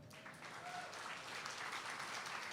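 Audience applauding a newly introduced MC at an anniversary show, steady continuous clapping heard faintly and evenly throughout.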